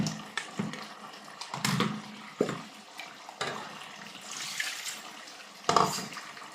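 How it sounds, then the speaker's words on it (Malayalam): Water rinsed from a mixer jar poured into a simmering chicken curry, several short splashing pours and gurgles close by, separated by brief pauses. "മിക്സിയുടെ ജാറെല്ലാം കൂടെ കഴുകി കുറച്ച് വെള്ളം കൂടെ ഒഴിച്ചു കൊടുക്കാം."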